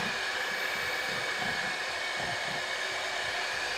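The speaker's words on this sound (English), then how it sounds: "I'm really going to whisk this butter, bring in a lot of air into the butter" An electric mixer whisking butter to beat air into it, a steady loud motor whir with a faint rhythmic churn underneath, continuous and close without pause.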